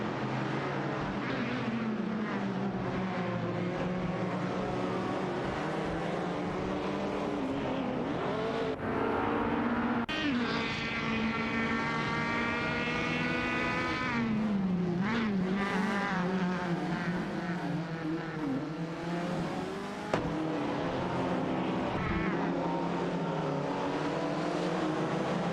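Race cars in an AI-driven racing video game, including a Fiat X19 Dallara and a Tafia Griffith 200, battle on track with continuous loud engine drone and rising and falling revs as cars pass, no talking.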